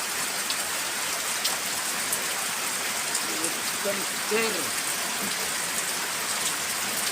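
Steady, dense rain pours down in a continuous hiss while a bird bathes in it, with a faint voice or call briefly audible beneath it.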